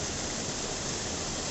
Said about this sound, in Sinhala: අතිශය සුන්දර දිය ඇල්ලක්